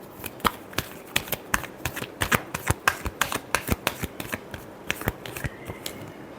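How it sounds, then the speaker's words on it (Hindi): Tarot cards being shuffled by hand, a rapid series of crisp riffling snaps and taps in an uneven rhythm, close and fairly loud, with no talking. "लिब्रा की फीलिंग्स अपने पर्सन के लिए। Last shuffle."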